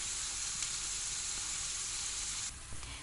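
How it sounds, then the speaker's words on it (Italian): Giarratana onions sizzling gently in a pan over a low flame, a steady bright frying hiss throughout, close and unbroken, dipping slightly near the end with a faint stir. "Per i primi minuti mantengo la fiamma dolce perché voglio che le cipolle appassiscano"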